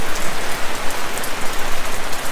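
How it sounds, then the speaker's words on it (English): Heavy rain pours down steadily during a wet Remembrance Day on a road trip from Rockhampton toward Tin Can Bay, a loud, dense, continuous hiss of drops striking surfaces close by, with no voices. "this rain's just not letting up"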